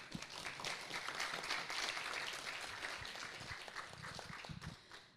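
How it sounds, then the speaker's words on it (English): An audience applauds a candidate at a student network assembly with dense, fairly faint clapping. It swells early and slowly thins out toward the end. "A huge round of applause for Peter."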